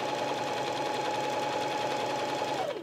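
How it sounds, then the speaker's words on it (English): A Viking E 20 sewing machine runs steadily while sewing a straight top stitch, its motor whirring with a fast, even rhythm close up, then winding down at the end. "if I turn this back to A with the needle position over here on the left-hand side, we could easily top stitch"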